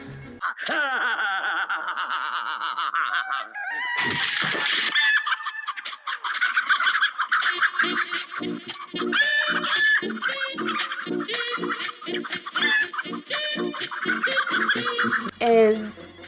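Cartoon chickens cluck and squawk in a busy, bouncy stream, with a rooster-like crow and some laughter-like bursts mixed in, lively and close.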